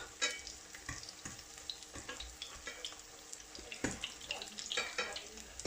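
Fish-filled bourek pastries frying in oil in a pan, a soft continuous sizzle broken by repeated clicks and scrapes as they are turned over several times, close and fairly quiet.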